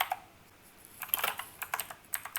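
Soft, quiet typing on a computer keyboard while coding, with irregular clusters of key clicks that grow busier in the second half.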